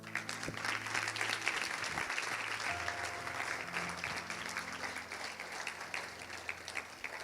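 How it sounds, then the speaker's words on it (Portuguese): A church congregation applauds in a dense, continuous wash of clapping that stays loud and even for several seconds, with faint murmurs of voices underneath. "Aplaude o Senhor."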